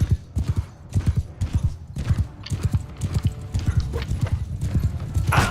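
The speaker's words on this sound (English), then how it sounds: "So there's going to be a load of horses." Horses galloping in the medieval combat game Mount and Blade II: Bannerlord, a dense, steady drumming of many hooves close by with an occasional whinny, continuing without letup.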